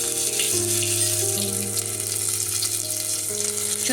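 Ginger-chili paste hits hot oil for tempering dal, giving a loud, steady hiss of frying that runs unbroken throughout, with soft background music underneath.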